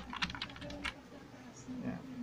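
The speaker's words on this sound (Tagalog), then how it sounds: "Sa Microsoft na nagtatype tayo." Keys typed quickly on a computer keyboard at a pisonet coin-operated PC while typing in a Microsoft program: a short run of crisp, close keystroke clicks, with a faint voice in the background.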